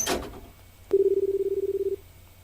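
A payphone in a video game being dialed: a sharp click, then a rapid string of even tones pulsing in a steady rhythm for about a second before stopping, close and clear with no voices.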